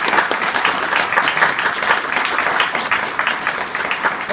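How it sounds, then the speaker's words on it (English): Sustained audience applause at a Kinodrome film evening, a dense steady crowd of many hands clapping for the presenters throughout, loud and close with no voices. "An applause for our presenters and for yourself."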